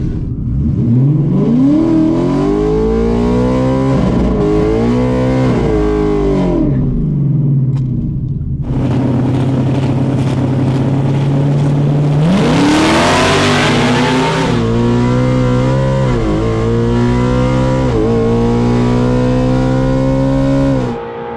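A Ford drag race car, the Silver Bullet 2.0, revs loudly and launches at a Ford Nationals drag strip in humid conditions, its engine climbing through harmonic sweeps, holding a steady drone, then screaming up through gear changes.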